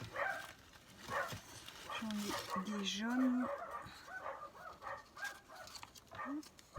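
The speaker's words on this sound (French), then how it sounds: "Excusez-moi pour les chiens." Dogs indoors give short yips and a drawn-out whimper under a woman's close conversational speech, the dog sounds faint and intermittent.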